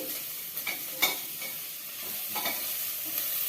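Green papaya pieces frying in a pan for a papaya curry, giving a steady soft sizzle with a few scraping stirs, close and alone.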